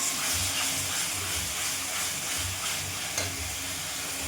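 Spice paste sizzles and fries in hot oil while being stirred in a pan, a continuous bright hiss broken by soft rhythmic scraping strokes, close and steady with no talk.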